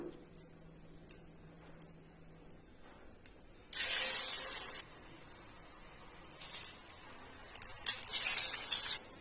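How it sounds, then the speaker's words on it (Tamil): Small beetroot kola balls dropped into hot oil, with bursts of loud hissing sizzle that swell and fade in waves over a quieter background. "இதை சின்ன சின்ன உருண்டையாக பிடிச்சிட்டு ஆயிலில் போட்டு நல்லா வேக வச்சு அப்படி எடுக்கலாம்"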